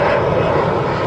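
An AirAsia airliner passes near KLIA airport, its engines a loud, steady roar that fills the whole moment.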